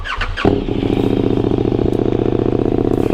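A KTM Super Duke motorcycle with a Pipewerx GP exhaust and its baffle removed starts up close by, then settles into a loud, lumpy, rapid-pulsing idle that carries on steadily.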